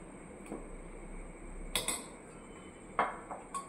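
Bowls and dishes clink as raita and coriander chutney are served at a home dinner table, with a few scattered light ceramic knocks and a pair of sharper ringing clinks over a quiet room.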